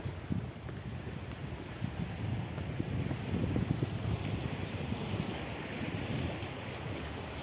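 Waves wash steadily on a shore under gusting wind that buffets the microphone, a continuous loud roar with no voices.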